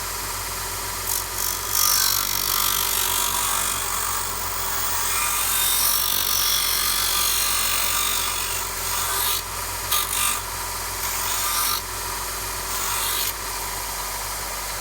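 An Axminster AC125BDS mini belt sander grinds steadily against a curved piece of timber, a loud continuous abrasive rasp with slight swells as the wood is pressed in, no voices over it.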